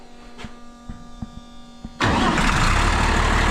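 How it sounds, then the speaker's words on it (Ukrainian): An MTZ 1221 tractor's MAN D0826 diesel engine cranks briefly after faint clicks, then catches and roars into a loud, steady rumble that continues to the end. "зараз заведемо, послухаємо, як робота цей трактор"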